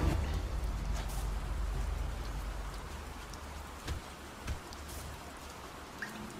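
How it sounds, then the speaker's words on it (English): Steady rain hisses throughout an animated battle, a dense wash of drops with a few soft thumps near the end and no voices. "Oh, the rain."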